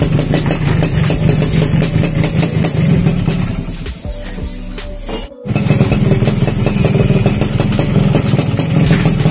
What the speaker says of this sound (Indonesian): mesin nyala.